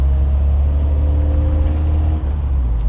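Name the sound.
1967 MGB GT engine driving in third gear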